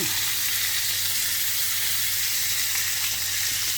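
A ribeye steak sears in a hot pan with a loud, steady sizzle that lasts the whole time, and no one talks.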